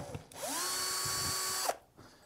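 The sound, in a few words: power drill driving Phillips head screws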